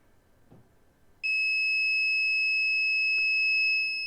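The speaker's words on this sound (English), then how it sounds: "now we see the buzzer turned on and we can clearly hear the buzzer" An Arduino-driven piezo buzzer switches on abruptly after a quiet moment, holding a loud, piercing steady tone for several seconds before easing slightly, with no talk.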